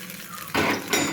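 Urad dal tempering stirred in a pan for a South Indian chutney, heard as a short burst of metallic scraping and clinking of a spoon against the pan after a quiet start, fairly loud and close, with no talking.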